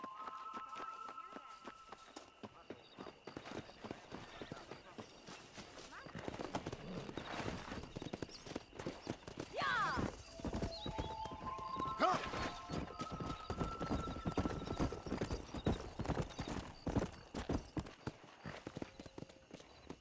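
Horse hooves clip-clop and gallop steadily in the Red Dead Redemption video game, a whinny rising partway through over a busy backdrop of game music and voices.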